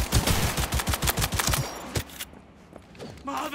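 Automatic smart pistol fires in Cyberpunk 2077 on very hard difficulty, a fast run of close, loud shots for about two seconds, then a quieter stretch of game sounds.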